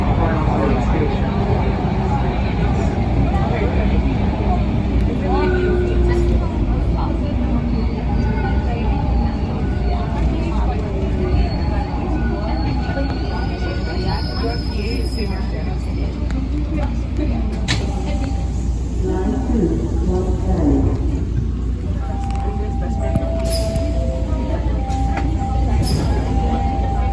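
A Line 2 subway train runs between stations, a continuous loud low rumble and rail roar with faint squeals, steady throughout.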